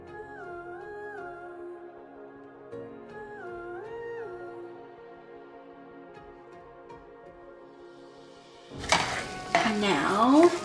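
Ground turkey seasoned with taco seasoning sizzles in a pan while a utensil stirs and scrapes it, bursting in loudly for the final two seconds after a gentle melodic tune.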